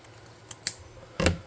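Scissors snipping a thin piece of material for a modular village backdrop, a few faint light clicks followed by one sharper, louder cut near the end.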